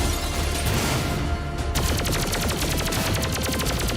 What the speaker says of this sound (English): The plasma rifle sound effects, close, but it's old style.